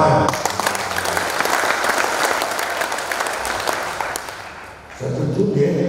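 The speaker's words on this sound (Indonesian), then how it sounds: "tepuk tangan." A crowd at a political party's inauguration ceremony for its regional leadership claps in loud, sustained applause for about five seconds before it fades out and other sound from the hall takes over.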